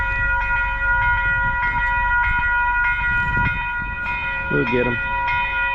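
An old 2-6-0 wood-burning steam locomotive heading southbound, heard close as a steady loud rumble with sustained whistle tones and clanking, while people talk briefly over it.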